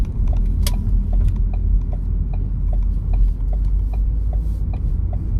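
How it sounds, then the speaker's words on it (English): Rain drumming on a car body and windshield while driving on a highway in upstate New York during a tropical storm, a steady dense patter of small ticks spread over a constant low road and engine rumble. "when the rain's pelting on the car,"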